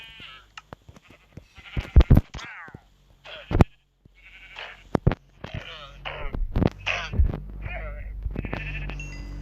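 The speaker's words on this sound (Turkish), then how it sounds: "İşte koyun var. Burada koyun yeri." Sheep bleat several times up close in an uneven rhythm, with people talking intermittently and some handling noise.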